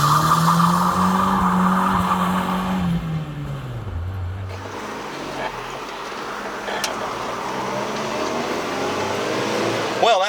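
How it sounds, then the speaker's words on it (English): A 1996 Toyota Tacoma pickup, long left sitting in a field, revs hard as a tire spins and squeals in a short burnout, then the engine drops to a low idle while the squeal fades. "let's do a burnout"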